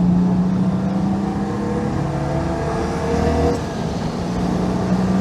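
A Citroen 2CV driving on its new engine, a steady buzzing engine drone heard from inside the car with a brief dip in revs around a gear change, no talking.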